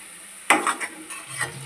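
Semolina tipped onto lightly fried onion in a pan for upma, giving a sudden close rustle and scrape followed by a few stirring strokes over a gentle sizzle.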